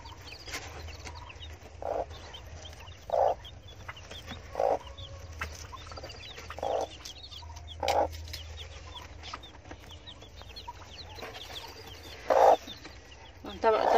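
Fayoumi hen clucking softly beside newly hatched chicks, short rounded clucks repeating every second or so at close range, with a steady low hum underneath and no voices.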